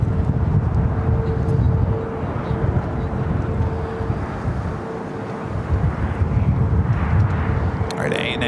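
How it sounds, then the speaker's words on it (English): A Boeing 787-9 Dreamliner takes off from runway 7 left at LAX in extreme winds, a steady broad jet roar holding throughout with wind buffeting the microphone. "Takeoff on 7 left. This flight heading back to Tokyo Haneda in the 787 9 Dreamliner flight 125."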